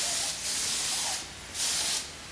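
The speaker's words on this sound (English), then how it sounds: "Very light tack coat, and then come back over with a light coat." Spray paint hisses in short, close bursts as a very light tack coat goes onto a classic Ford 841 tractor, three loud sprays separated by brief gaps.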